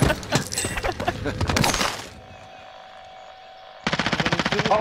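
Rapid automatic gunfire bursts in a Warzone match, loud and dense, then a brief lull with a faint tone before another sharp, rhythmic burst of shots; a player's voice is faintly present.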